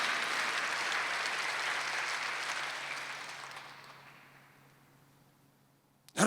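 Church congregation clapping together during a Korean Sunday worship service, a loud dense burst that swells at once and then slowly thins and fades over several seconds, ending almost silent before a brief sharp noise.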